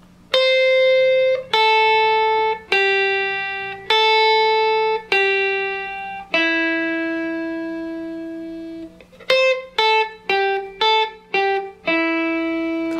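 Slow three-note scale sequences on electric guitar, each clean note held about a second before the next, then a long sustained tone followed by a faster cluster of notes and a final ringing one. Close and unaccompanied, with no talking.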